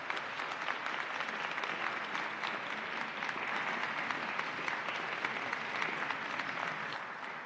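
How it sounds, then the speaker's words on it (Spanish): Sustained applause from a lecture audience, many hands clapping steadily and densely for several seconds with no voices over it. "no me queda más que pedirles un aplauso para nuestros ponentes"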